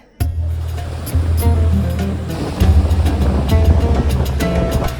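Ocean waves break on a beach near Chania, a loud, steady roar of surf that swells in surges throughout.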